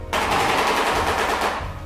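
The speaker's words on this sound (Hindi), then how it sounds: "जो आवाज आप सुन रहे हैं ये कोई गन फायर नहीं है, ये शॉबिल की बिल स्लैटरिंग है।" Shoebill stork rapidly clattering its bill, a dense, loud burst of machine-gun-like knocking that runs for nearly two seconds with no voices.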